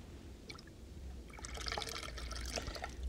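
Mineral drops are poured into a hydrometer tube, giving a soft trickling and splashing of liquid that builds midway and continues quietly to the end.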